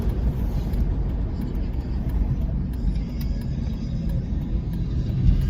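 Heavy road traffic rumbles steadily around a moving car, a dense low roar of engines and tyres from inside the cabin with no voices.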